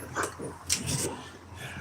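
A dog gives a few short yips and whimpering barks in quick bursts, fairly close, with no talk over it.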